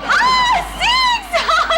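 Crowd cheering from a cricket match playing on a loud television, bursts of high shouting and whooping voices rising and falling in three waves, close and prominent.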